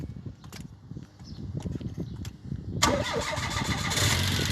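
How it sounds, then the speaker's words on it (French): Car engine cranking and firing up after a few quiet clicks and taps, then settling into a steady idle that grows a little louder, heard close up with no talk over it. "Pour vous faire écouter le bruit du moteur."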